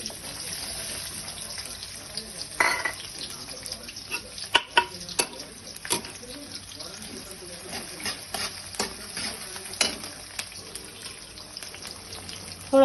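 Sliced onion goes into hot oil already crackling with cumin and mustard seeds in a kadhai, bringing a steady sizzle broken by scraping stirs and sharp clinks.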